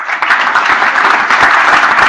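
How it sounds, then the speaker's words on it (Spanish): Seminar audience at a mining business seminar breaking into applause, a brisk dense round of clapping from a roomful of people, loud and close, starting right after a short pause. "Le damos un aplauso."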